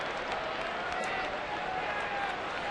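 A crowd at a night baseball game in a stadium with full bleachers, heard as a steady, distant murmur of many voices that stays even and continuous.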